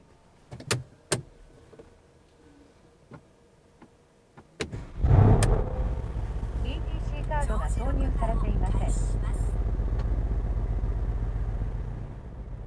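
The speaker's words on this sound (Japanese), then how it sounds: "ではエンジンを始動します" A few clicks and mechanical sounds, then a 2017 Mercedes-AMG C63 station wagon's engine cranks and fires, settling into a steady, deep idle that continues to the end.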